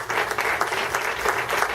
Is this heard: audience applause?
yes